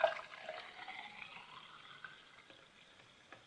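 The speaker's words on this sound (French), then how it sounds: "nous allons verser 25 centilitres d'eau gazeuse" Sparkling water poured into a glass, a faint soft trickle and fizz that fades gradually, recorded quietly without speech.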